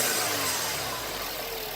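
A 2013.5 Volkswagen GLI engine revs with a dense, rushing roar and a hissy, airy whoosh, steady and loud throughout with no talk.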